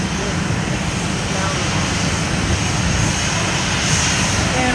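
A Boeing 737-700 jet airliner, 15 years old, roars steadily as it takes off from runway 10 left at Fort Lauderdale airport, a broad continuous engine rumble that holds loud for the whole stretch with no pause.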